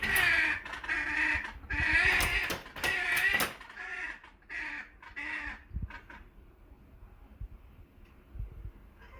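A caracara calling in a series of harsh, raspy, crow-like croaks and rattles, loud and close at first, then quieter and more scattered, with no speech.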